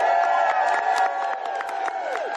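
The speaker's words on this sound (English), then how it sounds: "Give a round of applause for everybody and their hard work on this legislation." An audience at a Washington state bill signing bursts into sustained cheering and whooping with scattered clapping, a dense crowd roar that holds steady and eases slightly near the end.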